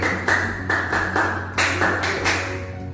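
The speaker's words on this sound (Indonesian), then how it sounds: "Kasih tepuk tangannya" Classroom applause from a group of elementary school pupils, a sustained patter of clapping that swells and eases in several waves, loud and close with no talking.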